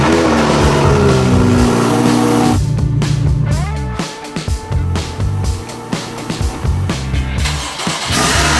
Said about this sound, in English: I'm going to be moving the car in here to install the dash cam